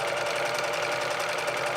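A sewing machine runs steadily as it stitches a stretchy dress, a continuous, close, even mechanical whir with no pauses and no talking.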